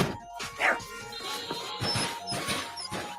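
A dog yelps and whimpers in a few short bursts amid a busy indoor scene, with people talking around it and the dog's cries rising briefly over the chatter.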